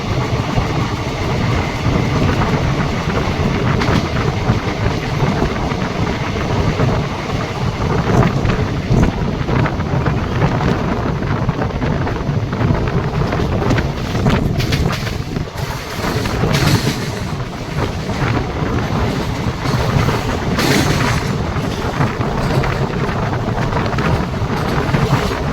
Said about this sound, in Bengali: বর্ধমান থেকে ছাড়ার পর ট্রেন ননস্টপ ছুটে চলেছে।